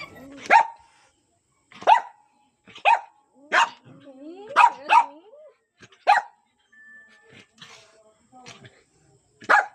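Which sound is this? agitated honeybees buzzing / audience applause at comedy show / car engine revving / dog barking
dog barking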